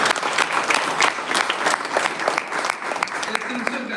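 Audience at a university event applauds steadily, dense clapping from many hands filling the hall for several seconds, with a voice faintly heard beneath it.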